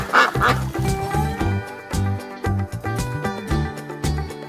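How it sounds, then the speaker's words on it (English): A duck quacks loudly and close, a rapid run of nasal, honking calls in quick succession with no other voices. "Duck."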